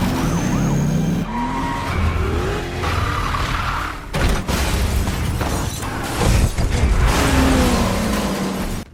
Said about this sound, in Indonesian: Dalam pertarungan terakhir mereka didominasi dalam pengejaran menggunakan mobil.